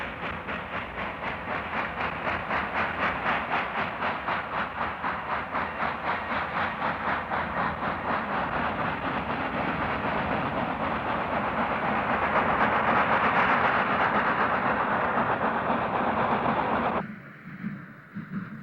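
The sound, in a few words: steam locomotive 2880 hauling freight train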